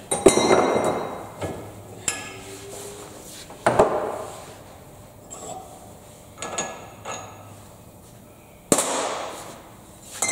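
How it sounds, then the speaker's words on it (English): Sharp metallic strikes ring out irregularly, a handful of separate hammer blows on metal at a quad bike's back axle, with pauses between them and quiet clinks in the gaps. "My favourite hammer in all the world."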